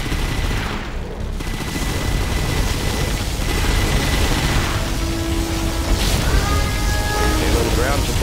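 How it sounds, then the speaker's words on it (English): A particle cannon fires in Command & Conquer Generals Zero Hour, a sustained loud roaring blast running steadily through the clip, mixed with in-game unit voice lines and rising electronic tones near the end. "Particle cannon activated."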